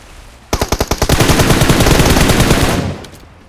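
Gunfire in the video game PUBG Mobile: a quick burst of separate loud shots, then a dense sustained automatic volley lasting a couple of seconds before fading, close and alone.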